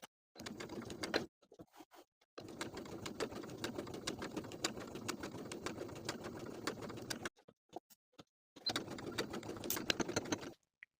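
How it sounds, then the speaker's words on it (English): Sewing machine edge stitching close to a folded fabric edge on a fitted pullover top, running in steady bursts with brief pauses between runs, fairly close and alone. "I'm going to edge stitch close to that folded edge"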